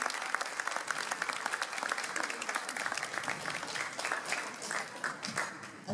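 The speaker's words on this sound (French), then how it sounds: "on vous l'applaudit" Audience applause at a 1950s-themed gathering in Saint-Germain-des-Prés: a crowd claps steadily with distinct individual hand claps standing out, lively and close, continuing throughout without talk.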